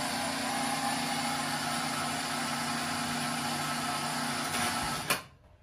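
A hoist winch motor on a trolley system at a butcher station runs with a steady mechanical hum and whine, then stops with a clunk near the end, leaving quiet.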